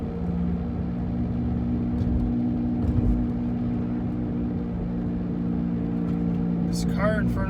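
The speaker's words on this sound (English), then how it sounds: "you can already hear the rubbing noise" Steady rubbing drone from a Saturn Ion car driving slowly, heard from inside the cabin under a constant road and engine hum, continuous and fairly loud throughout.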